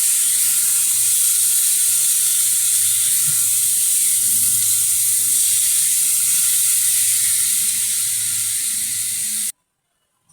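Ground poppy seed paste sizzles in a pan for a Bengali ridge gourd dish, a loud, steady hiss of frying that fades slightly before cutting off abruptly near the end.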